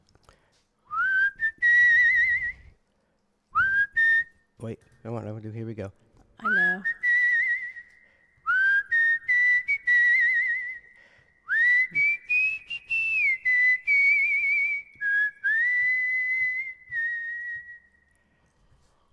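A person whistles a melody in several clear, close phrases with brief pauses between them, the whistle bright and slightly reverberant, and a few spoken words slip in between phrases.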